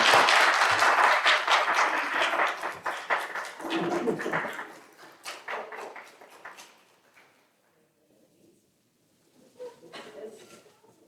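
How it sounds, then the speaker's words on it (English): Audience applause after a closing thanks, dense clapping in the first few seconds that thins out and fades, followed by near silence and a few faint scattered sounds at the end. "Go now in peace and with our sincerest thanks and a round of applause."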